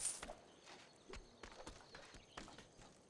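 Horse hooves clip-clop in the Civilization 5 strategy game, a quiet series of separate hoof strikes in an uneven walking rhythm, faint and fairly close, with no talk over them.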